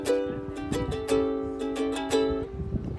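Ukulele strummed in a steady, quick down-up verse pattern, bright chords repeating evenly for a few seconds, close-up with no one talking.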